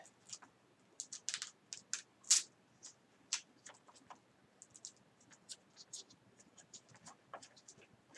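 Cards from The 7th Continent board game drawn and flicked through one by one, a close, quiet series of sharp papery clicks and snaps in an uneven rhythm, with soft voice murmurs around them.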